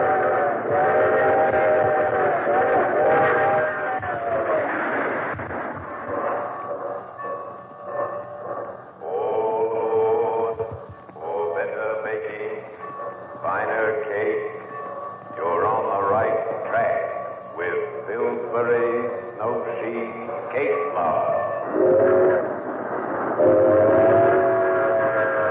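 Steam train effects for an old-time radio drama set around Grand Central Station, with whistle blasts and rolling rail noise playing loud and steady under a narrator's voice.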